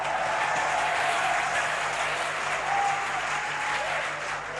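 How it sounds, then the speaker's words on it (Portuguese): A church congregation applauds loudly and steadily, a dense continuous wash of clapping from a large crowd with no pauses throughout. "Vamos, aplauda ele forte, glória a Deus."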